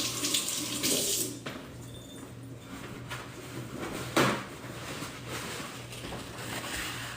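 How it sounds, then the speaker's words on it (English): Tap water runs into a kitchen sink as hands are washed, a close steady splash with shifting surges and a couple of brief knocks, no talking. "Let me wash my hands just a second."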